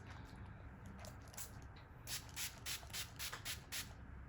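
Several short, soft spritzes of a fine rose face mist spray in quick succession, close and quiet against a faint background hiss.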